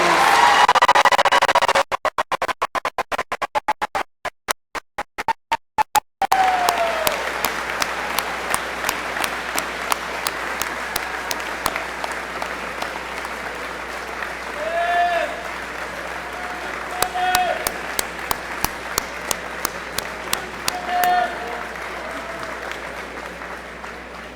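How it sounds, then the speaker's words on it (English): A large audience at a 2017 Jefferson Community College commencement ceremony breaks into sustained applause, steady and dense throughout, with a few louder claps and cheers rising near the end. "Let's have a great big round of applause to all those receiving certificates and degrees."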